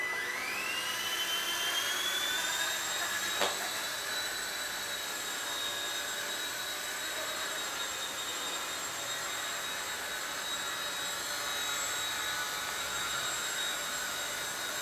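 A T-Rex 100X small RC helicopter spins up, its high motor whine climbing in pitch over the first few seconds, then holding a steady, close electric hum with a faint click early on.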